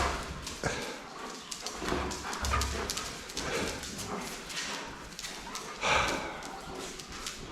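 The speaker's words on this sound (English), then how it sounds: "dogs are in and playing" Dogs play indoors, with scrabbling paws, thumps and soft whimpers and snorts in a busy, irregular jumble at moderate loudness, with little or no talk.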